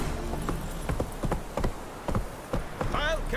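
The horse Roach gallops in The Witcher 3, hooves clip-clopping in a quick irregular rhythm through the whole stretch, with a voice briefly heard near the end.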